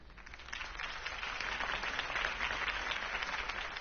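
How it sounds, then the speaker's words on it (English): Crowd applause at a political campaign speech in the Batman Telltale video game, a steady broadband clapping from a large audience that holds for the whole few seconds, moderately loud and without talk. "If only Mr. Wayne, my campaign's largest backer, could have heard that applause"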